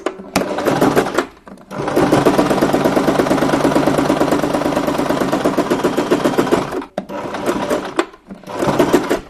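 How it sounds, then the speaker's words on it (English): A sewing machine runs a straight stitch along the bottom of a fabric drawstring bag in loud, rapid bursts, one long steady run in the middle with short back-stitch bursts at the start and end. "we're now going to stitch a straight stitch all the way along the bottom, again doing a back stitch at the start and end"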